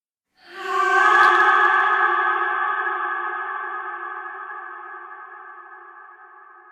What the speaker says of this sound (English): you can hear that that's a very long tail on that one